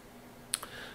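A couple of quick, close computer mouse clicks, one sharp and one softer just after, over faint room hiss.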